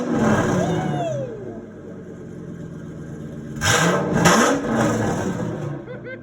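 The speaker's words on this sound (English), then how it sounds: "we're gonna start it with no exhaust at all on it. See what it sounds like." A Ford Triton V10 dump truck engine runs with no exhaust fitted, a loud raw rumble that swells with throttle blips and falls back toward idle, with a few bursts of harsh hiss partway through.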